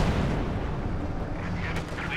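IS-2 tank shells strike in the strategy game Company of Heroes 2, a heavy rumbling barrage of booms rolling on continuously, dense and loud throughout.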